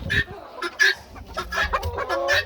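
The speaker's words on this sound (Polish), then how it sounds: "tu mam dwa kogutki, trzy kurki" Two roosters and three hens, two white and one black with an orange tinge, cluck repeatedly at close range in a farmyard flock, with short overlapping calls.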